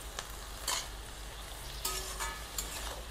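Lau shak, bottle gourd greens, cooks with salt and a little water in a pan. A faint, steady sizzle runs the whole time, broken by a few soft clinks and stirring scrapes.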